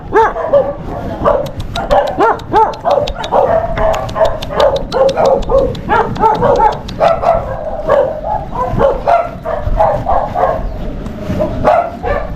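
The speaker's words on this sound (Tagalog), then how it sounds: "Ay nga aso" Dogs bark and yip in rapid, overlapping volleys close by, steady and loud throughout with some whimpering, in a rural setting near Candaba, Pampanga.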